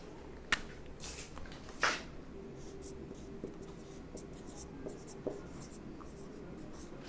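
Handwritten notes going down on paper with a pen or pencil, with soft scratchy strokes and a couple of sharp taps, close and very quiet in an otherwise still room.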